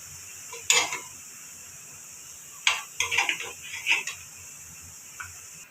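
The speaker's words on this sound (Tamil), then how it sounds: "ஒவ்வொன்றா பிளேட்டுக்கு மாற்றிக்கலாம்." Fried rava banana snacks moved one at a time onto a plate, a few sharp clinks and scrapes of utensil on metal with quiet gaps between, faint sizzling underneath.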